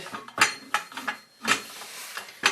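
Metal exhaust pipe on a 1978 Triumph Spitfire being worked into the muffler, giving several sharp clanks and scraping metallic knocks spread across a couple of seconds, close by with no talk.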